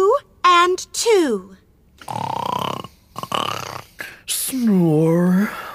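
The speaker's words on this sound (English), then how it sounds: "Snore." A sleepy cartoon pupil in a children's English classroom lesson snores in a few rasping, breathy bursts, interspersed with exaggerated vocal grunts and sighs, close and loud.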